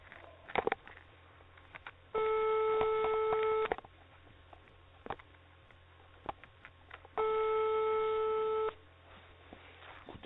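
Telephone call going unanswered, two long steady electronic tones of about a second and a half each separated by a pause, moderately loud over faint room noise and small clicks.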